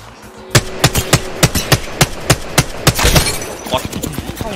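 Gunfire from a match of the Apex Legends video game: a rapid run of about a dozen sharp, evenly spaced shots, loud and close, then a denser burst with scattered shots trailing off.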